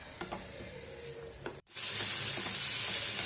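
Chopped onion, tomato, ginger and garlic sautéing in a pan for a cowpea masala: a quieter stir-fry hiss, then a brief cut and a loud, steady, close sizzle.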